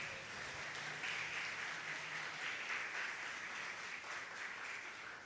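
Sustained applause from a church congregation during a sermon, a steady dense wash of clapping that holds at an even level for several seconds with no voices over it.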